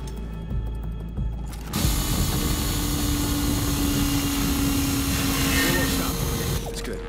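A drill whirs loudly while boring through a hydraulic seal in the video game Call of Duty: Ghosts. The steady mechanical roar and whine begin abruptly after a quieter opening and run continuously to the end.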